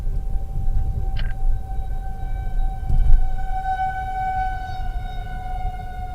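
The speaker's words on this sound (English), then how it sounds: "Always good to hear the tornado sirens going off." Long sustained wail of distant tornado civil defense sirens in Nebraska drifting steadily across the sky during a dying supercell storm, with a low rumble of wind underneath.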